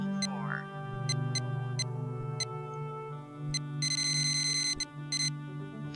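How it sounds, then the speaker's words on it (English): Electronic beeping in the puzzle game realMyst: a series of short, sharp beeps over a steady low hum, with a denser cluster of rapid beeps toward the end. "The beeping."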